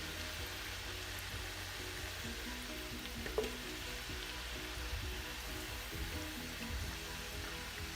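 Plantain slices for tostones frying in hot oil, a soft continuous sizzle and crackle heard close up at low level, with a small clink partway through.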